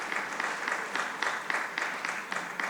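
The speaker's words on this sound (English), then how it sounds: "I want a round of applause for all this." An audience at a courthouse event for judges and legal practitioners applauds, a moderately quiet, steady patter of many clapping hands with soft rhythmic accents and no talk.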